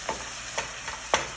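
Spatula stirring liver frying in a pan with lemon juice, three scraping strokes spaced across a steady sizzle, close and fairly loud, no talking.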